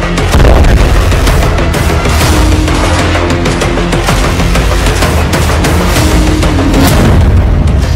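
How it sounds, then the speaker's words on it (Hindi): Dense gunfire and booming explosions from tank shelling in a war zone around Gaza, continuous and loud with overlapping blasts and crackling shots throughout, no voices. "बारूद और गोलियों की बौछार। टैंकों ने 2 शहरों को खाक में मिला दिया।"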